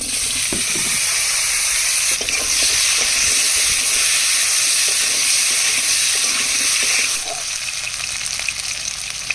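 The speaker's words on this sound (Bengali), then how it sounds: "ভাজা তেলের মধ্যে আলুগুলো দিয়ে ভেজে নেব" Potatoes fry in hot oil with a loud, steady, close hiss and sizzle, broken by a few clinks from stirring and no voices.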